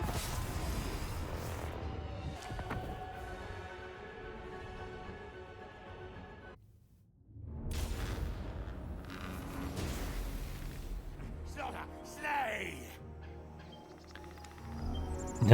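Plague Claw catapults and mortars firing in a Total War: Warhammer 3 battle, with dense rumbling booms and creaking mechanisms under a steady roar that drops out briefly, then returns with scattered launches and impacts.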